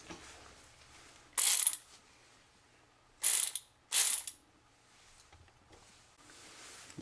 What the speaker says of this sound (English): you're just going to have to remove these 4 6mm bolts